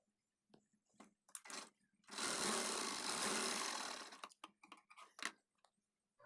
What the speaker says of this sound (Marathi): अशा पद्धतीने एक साईड माझी पूर्ण स्टिच करून झाली आहे.